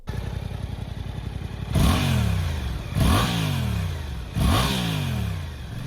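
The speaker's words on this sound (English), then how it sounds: "The GSX-8R features a large parallel twin engine." A Suzuki GSX-8R sport bike with a large parallel twin engine idles with a lumpy burble, then is revved hard three times, each sharp loud blip falling back toward idle.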